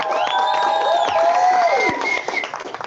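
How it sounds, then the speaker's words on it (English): Graduation audience applause and cheering, crowd clapping under prominent whistles and whoops that rise and fall above the clapping throughout. "Let's hear a round of applause with that congratulations."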